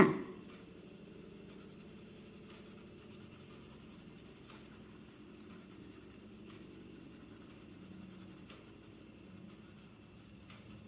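A child colours lotus pictures on a maths worksheet with a crayon or pencil, giving a faint, steady scratchy rubbing that runs continuously at close range with no talk.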